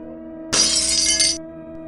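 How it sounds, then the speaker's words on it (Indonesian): A glass house window shatters after a medium-sized stone is thrown into it, a sudden loud crash followed by a sustained bright rain of breaking shards lasting about a second before cutting off, with steady low background hum throughout. "Suara kaca pecah memekakan telinga."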